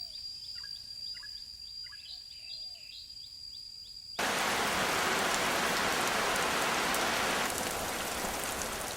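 Rain falling on dry, hard soil starts suddenly as a steady, dense hiss, replacing an earlier quiet scene with birdsong and insect buzzing, and continues loud and even.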